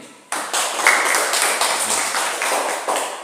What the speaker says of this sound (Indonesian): kita beri tepuk tangan untuk si Seren ini